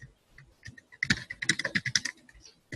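Quick bursts of keystrokes on a computer keyboard as a value is typed in, a few light taps followed by a denser run of clicks, close and clear with no speech.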